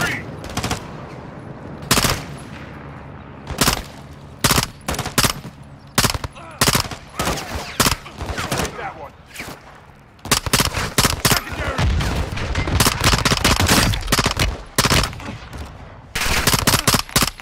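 Gunfire in Call of Duty Modern Warfare II's Borderline mission, with sharp, loud bursts of automatic fire and single shots that repeat through the battle and become a dense, sustained barrage toward the end.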